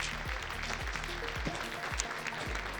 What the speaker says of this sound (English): A round of applause, please, for all of our sponsors